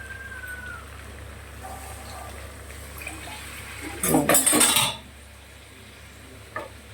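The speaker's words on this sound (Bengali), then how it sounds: "জল দিয়ে দিলাম।" Water poured into a cooking pan for a meat curry about to go into a pressure cooker gives a sudden loud splashing gush lasting about a second, set against a quiet steady kitchen hum, followed by a faint clink.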